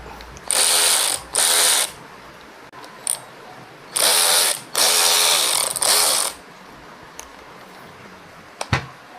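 An Ingco impact driver runs in reverse in five loud, close bursts of about one second each, its rapid hammering rattle separated by short pauses, with small clicks and a knock near the end.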